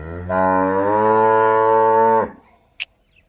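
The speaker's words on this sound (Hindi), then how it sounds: "खूब सारी गाय" A single long, loud moo from a black cow for sale at a rural cattle farm, a deep harmonic call lasting about two seconds, followed by a short faint click; no one speaks.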